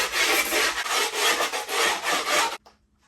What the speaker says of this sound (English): We'll start sanding it down. I have a screwdriver here, long piece of metal